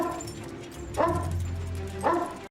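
A dog barks twice in the film Magnolia, two spaced yelps about a second apart over a low, steady background hum of the film soundtrack.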